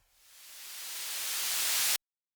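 A synthesized white noise hiss swells steadily louder for about two seconds, then cuts off abruptly into silence.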